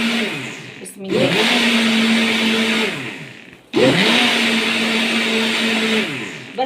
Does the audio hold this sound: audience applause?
no